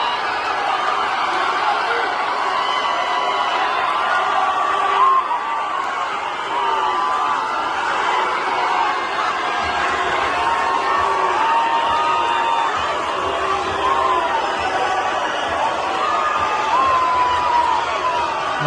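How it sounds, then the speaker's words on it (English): A big outdoor crowd murmurs and chatters continuously, with scattered voices, laughs and whoops rising out of a dense, steady wash of noise. "it's quite a big crowd though"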